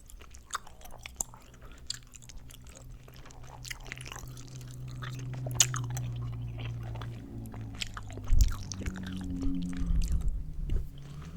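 Soft, sticky chewing of chewy candy close up, with moist smacking and squishy mouth noises over a low hum, growing a bit louder toward the end.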